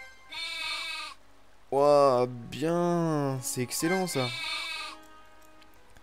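Sheep in the RPG Maker game Lullabia bleat in a series of loud, wavering calls, several in quick succession, with someone talking between and over them.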